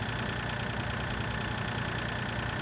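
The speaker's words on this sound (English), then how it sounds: "This tractor's rather slow" Tractor engine in the Farming Simulator 2013 video game running at a steady idle, a constant low mechanical drone with no change in pitch or level throughout.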